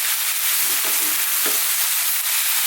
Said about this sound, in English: Now what's really important is to actually fry the rice for a good amount of time. High heat, we're going to stir this continuously now.